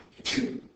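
A single short sneeze, sharp and breathy, close by, in a quiet classroom.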